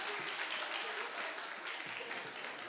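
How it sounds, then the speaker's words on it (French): Audience applause at a stage performance during a top rock breakdance demonstration, moderately loud, steady broadband clapping sustained for a few seconds. "On les applaudit."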